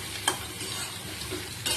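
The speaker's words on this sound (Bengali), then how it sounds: "এবার পেঁয়াজ আদা আর সয়াবিন গাটি কচু এটা দিয়ে ভালো করে নাড়াচাড়া করবো" Onion, ginger, soybean chunks and gati kochu taro sizzle steadily in a pan while a spoon stirs them, with a couple of sharp scrapes against the metal and no voices.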